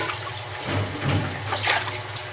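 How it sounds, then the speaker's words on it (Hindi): Water pours into a pot for daliya in a home kitchen, a soft splashing, gurgling flow that swells in a few uneven surges and stays fairly quiet. "इसके साथ हम पानी ऐड कर देंगे। पानी तकरीबन हमने 2 गिलास डालना है।"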